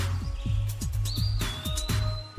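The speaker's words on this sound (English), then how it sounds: "These colorful birds are vocal, gregarious, and highly social." Parrots call in a lively run of short, repeated chirps and squawks, with a thin sustained whistle threading through, close and fairly loud with no talking.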